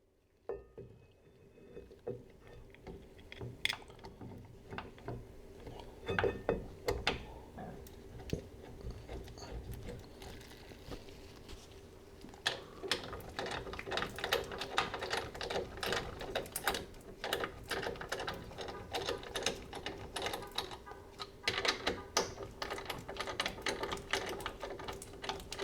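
Bolts being tightened evenly while fitting disc brakes with greased threads and washers to a Meyers Manx dune buggy, a series of close metallic ratchet and wrench clicks and clatters that grow busier and denser toward the end, with no talking.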